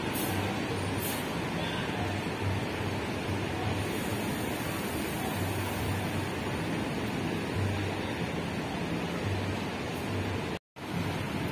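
An intercity PO Laju Patas bus on the Surabaya to Banyuwangi route leaving Purabaya terminal, a steady loud diesel engine rumble with broadband noise and a brief cut near the end, no talk.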